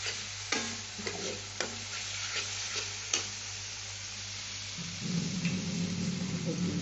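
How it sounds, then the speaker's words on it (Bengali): Garlic sautéing in a pan with a little water, a soft continuous sizzle with a few knocks of stirring, then a louder, denser bubbling hiss toward the end. "একটু জল দিয়ে একটু কষে নিচ্ছি।"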